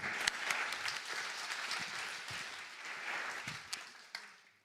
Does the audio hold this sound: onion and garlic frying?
no